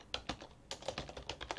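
Quick, crisp keystrokes on a computer keyboard while entering commands during an Arch Linux installation, about ten close taps in an uneven, rapid rhythm with no talking.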